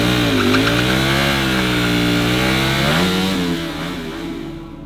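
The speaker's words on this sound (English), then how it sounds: "This is the motorcycle burnout." A motorcycle engine screams at high revs, its pitch sweeping up and down in loud sustained bursts before easing off toward the end.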